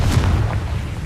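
A single Confringo spell explosion in Hogwarts Legacy lands as a short, heavy, low boom with a brief rumbling tail, loud and close.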